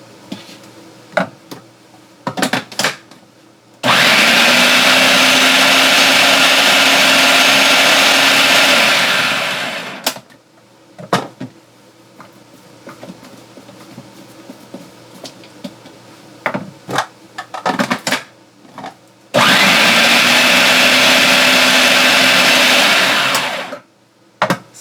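A blender spins a pineapple juice mixture in two loud, steady bursts of about six seconds each, separated by quieter stretches of kitchen clatter and light handling noises.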